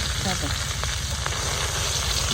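Jute leaves hiss steadily in a pan of oil with onion, garlic and green chili, a dense close sizzle with a few faint clicks and a hint of background voices.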